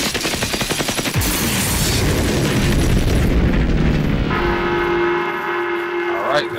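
A turret is shot down in the open-world shooter Generation Zero amid heavy rattling machine-gun fire and booming blasts. Loud, dense noise gives way to a ringing mechanical whine and a final crackle.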